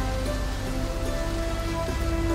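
Steady, dense pouring rain, a constant close hiss of drops hitting a surface that holds at one loud level throughout, with no voices.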